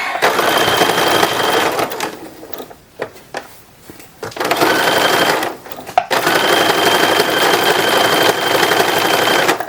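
A sewing machine hems a baby's infant wrapper in long, loud, close runs, pausing briefly in the middle and near six seconds before resuming a steady whirring stitch.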